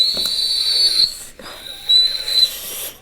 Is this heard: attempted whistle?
yes